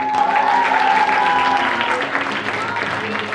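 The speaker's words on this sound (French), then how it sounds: "vous pouvez vous applaudir très fort." Loud, dense applause from an audience at a poetry slam stage event in Reims, a steady roar of many hands that stays strong throughout.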